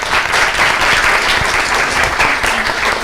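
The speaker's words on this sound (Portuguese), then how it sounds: "Palmas a Rafaela." An audience on a television talk show applauds a guest, a loud, dense and steady burst of clapping that runs without a break.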